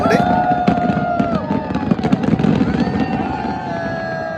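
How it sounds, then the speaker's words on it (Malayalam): Fireworks display over Lusail Boulevard at the Arab Cup cultural festival, a run of loud crackling bursts and whistles with a crowd murmuring beneath. "അങ്ങനെ ഫയർ വർക്ക് സ്റ്റാർട്ട് ആയിട്ടുണ്ട്."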